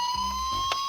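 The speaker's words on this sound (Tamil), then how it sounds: "அது ஒரு ஆம்புலன்ஸ் தான்" An ambulance siren sounds as a steady, piercing electronic tone, brief and continuous, with no talking over it.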